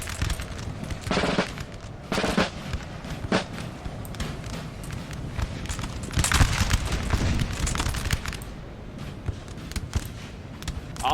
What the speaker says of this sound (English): just too many musket fires. Musket volleys